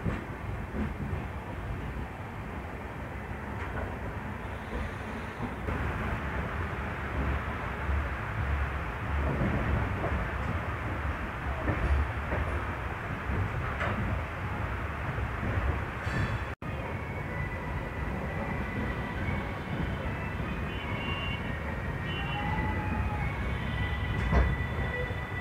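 Jodhpur–Indore express train 14801 rolling into Ajmer station, a continuous heavy rumble of wheels on track with faint squeals, heard from inside the moving coach.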